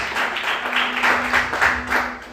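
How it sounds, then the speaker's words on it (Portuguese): A church congregation claps and applauds steadily for a couple of seconds, with a steady hum running beneath it. "Quantos podem aplaudir Jesus bem forte?"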